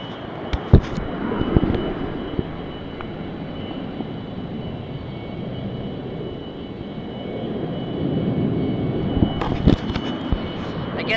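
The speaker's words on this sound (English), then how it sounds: "the planes are noisy today" Airplanes pass overhead outdoors as a steady, broad distant roar that swells and fades across the span, with a few sharp knocks and clatters nearby.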